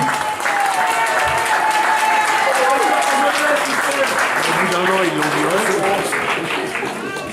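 Audience applause rising into an ovation for Michel Auvin at a 40th-anniversary evening of the Sub Galatée club in Le Chesnay, dense continuous clapping held loud through the whole stretch, with a voice speaking over it.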